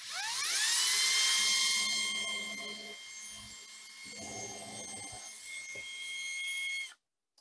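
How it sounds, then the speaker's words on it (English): A high-pitched drill whines loudly as it bores a hole through a countertop, the pitch settling and then grinding steadily before stopping abruptly. "I'm going to drill this hole in here."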